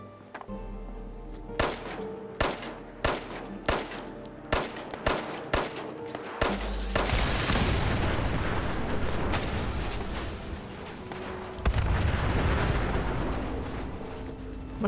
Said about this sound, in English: The fact that the cars explode like a mini nuke is just awesome.